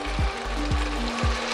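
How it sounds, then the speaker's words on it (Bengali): Ivy gourd (kundru) fries in a pan in a home kitchen with a steady, close sizzle, broken by three soft stirring scrapes at even intervals. "আর এদিকে কুদরি ভাজা বসিয়ে দিয়েছে"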